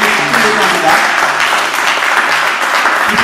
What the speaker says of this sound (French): Est-ce qu'on peut maintenant applaudir tous les candidats